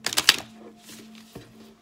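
Tarot cards shuffled by hand: a quick burst of crisp riffling clicks at the very start, then near-quiet with a faint low hum.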